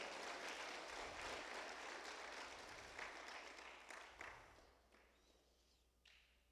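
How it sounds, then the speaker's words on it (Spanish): A church congregation claps together during a live worship meeting, a dense sustained wash of applause that slowly thins and fades over several seconds, with a few louder isolated claps near the end. "Dale un fuerte aplauso al Señor"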